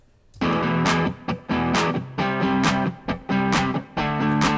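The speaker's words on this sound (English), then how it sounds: "After that, I played the guitar on those roots." A distorted rock guitar chugs on root notes through a pop-rock build-up, loud chopped chords with short rhythmic gaps between them and no one talking.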